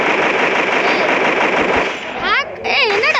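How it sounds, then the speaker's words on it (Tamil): Sniper gunfire in a shooting video game rattles loudly and densely for about two seconds, then thins out as a voice starts talking over the fading shots. "ஸ்னைப்பர் வச்சு இங்கே அடிக்கிற மாதிரி சத்தம் கேக்குதுடா."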